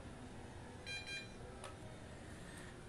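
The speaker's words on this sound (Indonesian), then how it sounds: "ditahan tombol resetnya selama 3 detik sampai berbunyi bip 2 kali untuk lampu isyaratnya" A smart signal lamp gives two short electronic beeps in quick succession after its reset button is held, faint and close against a low background hiss.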